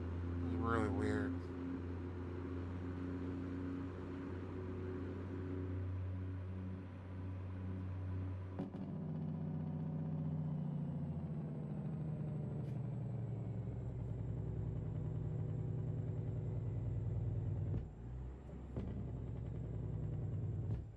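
A truck engine in a trucking simulator game holds a steady low drone at roughly 1400-1600 RPM, continuous and prominent throughout with a brief dip near the end, while a person talks over it.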